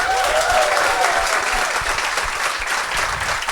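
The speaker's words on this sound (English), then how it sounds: "Give me a round of applause if you have seen Die Hard." An audience at a live comedy show in London breaks into a round of applause, a full, steady burst of many hands clapping close by that continues throughout, with faint crowd murmur underneath.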